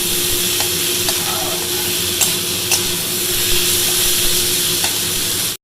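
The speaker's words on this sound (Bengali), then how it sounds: "করলা ভাজা বসানো হয়ে গেল" Bitter gourd frying in a pan gives a steady, close sizzle that runs unbroken throughout, with a few faint clinks and stirring scrapes over it.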